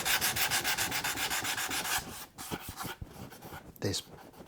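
Sandpaper rubs rhythmically across the wooden body of a Squier Stratocaster guitar being refinished, loud, close back-and-forth strokes for about two seconds, then slower, scattered scrapes and handling knocks.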